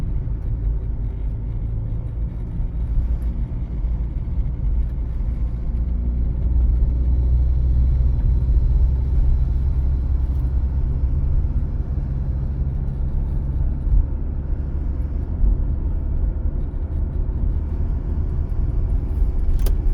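A car drives straight along a city road, steady low engine rumble and road noise heard from inside the cabin, continuous and fairly loud with no talking.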